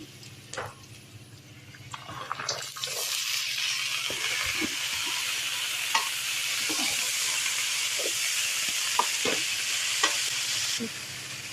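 Greens hissing and sizzling as they hit a hot pan, steady crackle with intermittent stirring scrapes and clicks, close and continuous.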